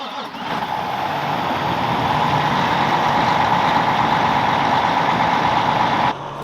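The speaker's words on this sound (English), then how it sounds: "As the tractor's warming up" Farm tractor engine idling steadily while warming up before a morning of drilling, a constant loud mechanical drone with a strong mid-range hum that holds level for about six seconds, then drops slightly at the end.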